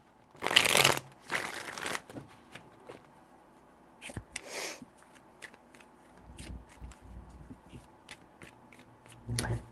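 A deck of tarot cards is shuffled by hand close up: two quick riffling bursts, then a third softer one, followed by light taps and card handling in a quiet room.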